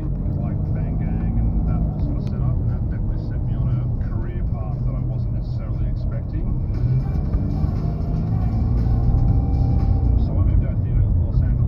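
Car driving through Melbourne on a windy day, a steady engine and road rumble with wind buffeting, continuous and close throughout.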